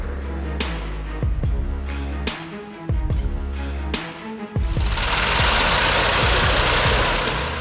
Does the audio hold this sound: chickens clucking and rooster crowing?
no